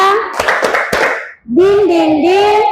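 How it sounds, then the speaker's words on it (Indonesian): A group performs an Indonesian spirit clap, with a quick burst of several sharp, close hand claps, then voices chant together in rhythm. "Ya, tepuk semangat."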